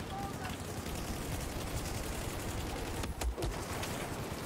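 Assault rifle fire in the game Battlefield 4, a continuous, fairly faint rattle of shots under a busy battle mix, with talking mixed in.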